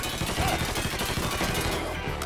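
Rapid gunfire from Mafia 3 rattles in quick repeated bursts, loud and close, filling the whole short stretch without any voices.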